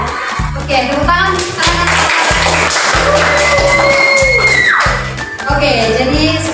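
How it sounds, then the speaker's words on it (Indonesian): Classroom applause in a micro-teaching practice lesson: children clap together in a steady burst beneath a loud, repetitive musical beat, with tonal sound effects sliding over it before the clapping fades. "tepuk tangan"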